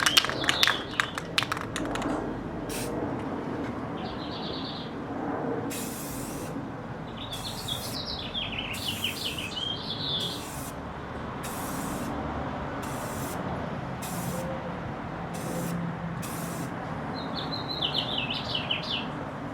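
An aerosol spray can of Army Green paint, used to paint stripes on a GS550 cafe racer, hisses out in a series of short, separate bursts. Birds chirp outdoors in the background.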